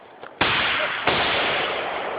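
An AR-15 rifle fires outdoors at a target range: two sharp, loud reports less than a second apart, each followed by a sustained ringing wash, with faint sounds before the first shot.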